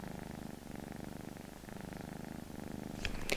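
A pet cat purrs steadily right beside the listener, a continuous close, rumbling purr with a slight rise near the end.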